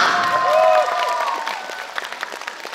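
An audience applauds a woman's solo dance at a Chinese New Year's Eve show, the clapping growing sparser and fading as a host's voice and a sustained musical tone sit over the start.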